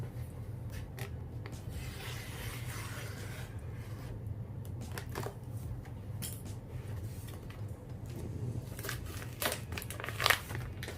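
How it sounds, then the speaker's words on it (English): Head gasket packaging for a Toyota Supra 7M-GTE cylinder head being cut open, a steady soft rubbing and crinkling of plastic with brief sharper snips and a small bump near the end, close and fairly quiet. "Go ahead and cut this open."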